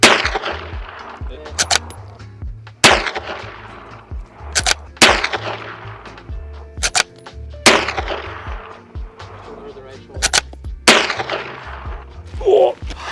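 Lever-action rifle fired outdoors at a target, several sharp, loud gunshots spaced a couple of seconds apart, each with a ringing echo tail, and no talk.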